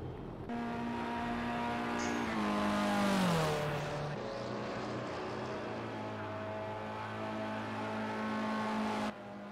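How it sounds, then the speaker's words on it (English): Race cars in a racing video game sweep past, their engines droning with rising and falling pitch as a car accelerates by, then settle back into a steadier hum before cutting off. "There'll be 2 cars coming past and you can follow."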